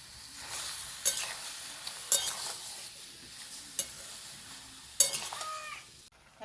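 Tomatoes cook with onion, ginger, garlic and dried chilli in a pan, a soft low sizzle punctuated by several sharp spoon-against-pan clinks and stirring scrapes.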